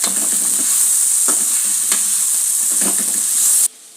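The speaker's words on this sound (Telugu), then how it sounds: "కొంచెం పసుపు ఇలా కలిపేసుకోవాలి" Potato and fenugreek leaf curry with turmeric being stirred in a frying pan, a steady loud sizzle with periodic scraping strokes of the spoon, close and continuous with no talking, cutting off abruptly near the end.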